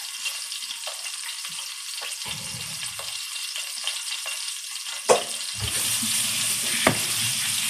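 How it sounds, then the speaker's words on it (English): Water running from a kitchen tap as hands are rinsed, a steady close splashing hiss with a few clinks and knocks from the sink, louder toward the end. "let me get this water off of here."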